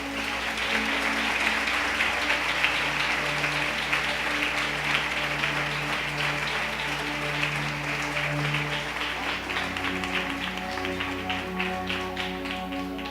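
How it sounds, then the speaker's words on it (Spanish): Dense, sustained applause from a church congregation during a Sunday service, a steady wash of many hands clapping over soft held musical tones, continuing evenly throughout. "¿Qué tal si los demás los animamos con un aplauso?"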